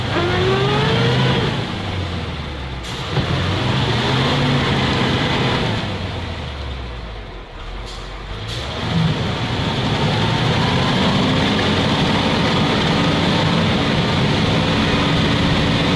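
A ZIL truck engine revving hard off-road with a slipping clutch, loud throaty roaring that rises and falls as gears are hunted, with brief dips near three and seven seconds before the drone resumes.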